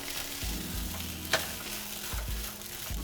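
Vegan spring roll filling of vegetables and noodles stirs and sizzles in a pan, a steady frying hiss with a brief sharp scrape near the middle and low thumps of the utensil, no talking.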